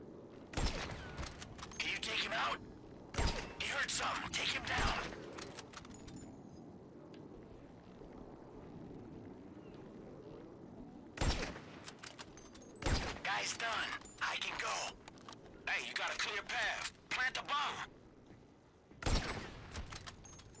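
Gunfire from the video game Grand Theft Auto V during a ship heist mission rings out in several sharp bursts and single shots, separated by quieter game ambience.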